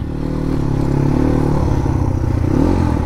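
A Crossfire motorcycle ridden by a woman on a road hums steadily and loudly up close, its engine note shifting slightly as it rolls on, with rattling and wind underneath.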